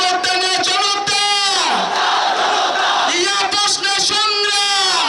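A large crowd at a political rally in Chittagong chants slogans in loud, rhythmic unison, with voices rising and falling in repeated call-like phrases close and dense throughout.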